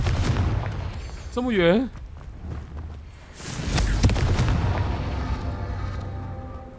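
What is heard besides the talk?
Confringo fire spell blasts in Hogwarts Legacy video game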